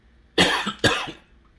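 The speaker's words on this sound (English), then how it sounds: "I had a cough." Two sharp, close coughs in quick succession, loud and isolated, with quiet room tone after.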